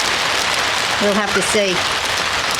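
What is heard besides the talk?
heavy rain falling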